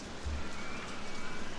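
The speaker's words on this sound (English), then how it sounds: "I've heard it raining on here." Rain falls in the park-building game OpenRCT2, a steady hiss of rain on surfaces with no other sounds over a short stretch.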